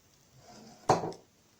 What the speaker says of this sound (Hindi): अब हमने इसी ब्लेंडर में हम लोगों ने आइस क्यूब डालना है